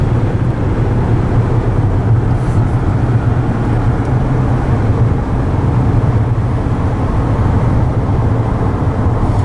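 A 2014 Ford Taurus slowing down from high speed on the road, with a steady loud drone of engine, tire and wind noise that holds constant throughout and has no voices over it.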